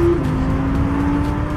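Mercedes CLS accelerating on a Dubai road, a loud continuous engine tone rising slightly as the car gains speed, close and steady throughout with no voices.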